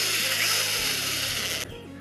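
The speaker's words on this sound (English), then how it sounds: "I'm going to drill straight" A drill bores straight through a small wooden stick for a miniatures stripcutter, a close steady whirring grind with a ratcheting texture that drops off sharply near the end as the motor winds down.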